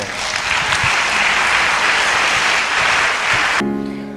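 An audience applauds during a church gathering in praise of the Lord, a dense, loud, sustained burst of clapping lasting several seconds before cutting off abruptly.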